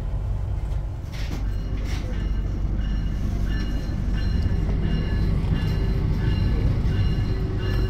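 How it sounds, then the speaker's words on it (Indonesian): The Menoreh passenger train rumbles steadily with low, continuous rolling noise and faint squeals as it pulls into Pekalongan station on track 3, with muffled voices in the background. "kereta Menoreh ini masuk stasiun Pekalongan jalur 3"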